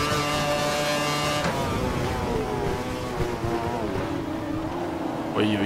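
An F1 race car in the F1 2012 racing game screams at full throttle during qualifying in Italy, a loud, steady high-pitched engine wail that shifts gear partway through and keeps rising in pitch.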